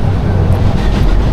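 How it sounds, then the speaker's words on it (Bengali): The Subarno Express, a nonstop train from Dhaka to Chittagong, rumbles along at speed, a loud, close, continuous roar of wheels and carriage noise heard from inside. "খুব ভালোই টানতেছে ট্রেনটায়।"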